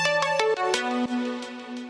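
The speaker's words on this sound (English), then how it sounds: "Then I took this little synth part, which without effects sounds like this" Dry synth part with no effects, a quick bright melodic run of plucky, ringtone-like notes settling into a held tone, close and alone.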